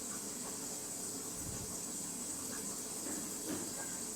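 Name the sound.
Sankar fish curry sizzling while stirred with garam masala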